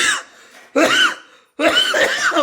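A woman in a home kitchen coughs in three separate bursts, the later two louder and harsher, close to the listener with short pauses between them.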